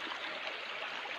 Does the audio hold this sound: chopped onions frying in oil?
no